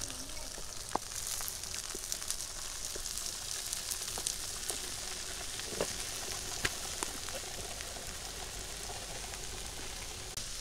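Bitter gourd (karela) frying in a pan, a steady close hiss of sizzling oil with scattered pops and crackles throughout, no voices.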